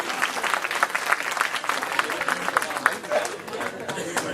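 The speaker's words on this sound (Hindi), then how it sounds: "तालियां बजा के शायद इजाजत दी जाए।" Audience at an Urdu mushaira poetry recital in Delhi claps in scattered bursts, a loud uneven patter of many hands with crowd chatter and voices mixed in throughout.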